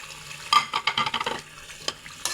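Potatoes being stirred into masala in a pan, a few close scraping and clattering strokes of a spoon with a light sizzle underneath.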